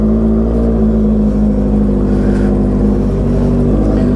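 A Honda CB650R motorcycle engine idles steadily after a cold start, close and loud, with a constant low rumble that holds evenly throughout and no voices over it.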